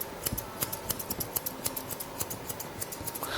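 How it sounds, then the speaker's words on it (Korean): Grooming scissors snip through a dog's fur, a rapid, regular series of crisp close-up cuts with no talking. "마찬가지로 가위가 이렇게 들어가서 커트합니다."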